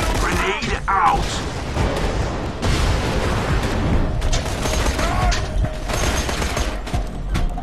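Combat from Borderlands 2 fills the scene with repeated gunfire, booming blasts and a grenade explosion, dense and loud throughout, with game sounds and occasional voices layered over the continuous firefight.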